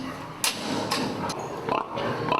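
Sows confined in narrow farrowing stalls on a pig farm grunt and shuffle in a dense, continuous barn din, with several sharper squeals or clanks standing out close by.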